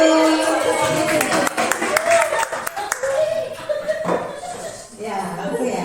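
An audience claps at a school gathering, brisk overlapping hand claps for several seconds that thin out toward the end, with voices and a little laughter mixed in.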